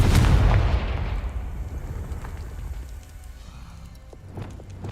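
A Confringo blasting spell explosion in the video game Hogwarts Legacy: one heavy, close boom at the start that fades into a long, crackling, rumbling tail, with small debris patters afterward.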